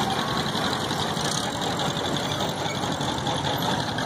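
The engine of a 1948 Farmall Cub tractor runs steadily in an outdoor tractor parade, a constant mid-pitched chugging drone close by with no voices over it.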